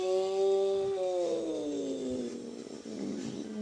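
A cat sound effect from a video game: a drawn-out tonal meow that bends downward in pitch, followed by a rougher, noisier tail, loud and alone with no talk.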